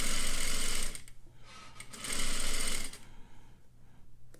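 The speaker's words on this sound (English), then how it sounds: "I'm going to sew all the way down, removing pins as I go." Sewing machine stitching bias binding along a quarter-inch seam, running in two loud bursts with a brief pause between, then going quiet as it stops.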